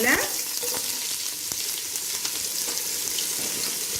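Chopped onions fry in sesame oil with cloves, giving a steady, crackling sizzle throughout, broken by a few faint stirring ticks.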